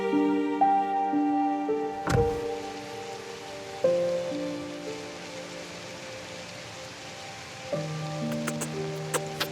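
Steady rain falls outdoors, a continuous soft hiss of drops running beneath sustained music, with no voices.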